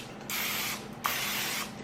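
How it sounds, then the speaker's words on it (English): Cooking spray is sprayed onto the tops of chicken pieces in two steady hissing bursts, each about half a second long, with a short pause between them, close and clear. "spray the tops of the chicken with some cooking"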